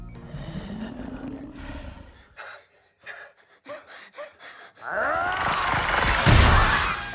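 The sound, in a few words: glass being smashed in a film scene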